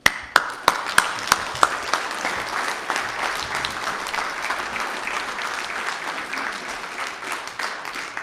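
A few sharp claps start it off, then a room full of people at a community association meeting breaks into steady, sustained applause that carries on to the end.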